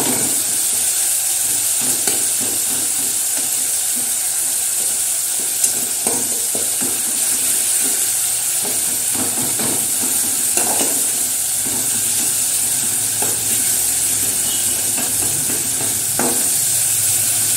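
Marinated chicken with cumin, garlic, ginger and onion frying in oil, a steady loud sizzle with occasional stirring scrapes, close up and without talk.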